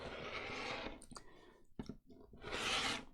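Thick card is cut for a junk journal, with a close, quiet rasp of blades through the card, a few soft clicks and a final longer cut.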